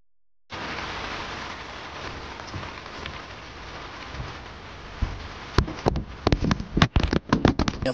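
Heavy rain and wind during a Category 5 typhoon at a campsite, a dense steady hiss of rain that starts abruptly, then sharp loud drops and gusty bursts crackling near the microphone toward the end.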